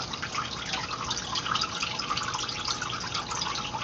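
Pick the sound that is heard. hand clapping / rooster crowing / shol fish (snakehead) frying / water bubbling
water bubbling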